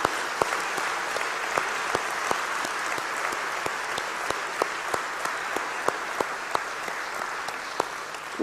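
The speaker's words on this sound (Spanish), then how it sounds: "Un aplauso a la palabra" A church congregation applauds after a sermon reading, steady clapping with scattered louder claps running through the whole stretch at moderate distance, no voices over it.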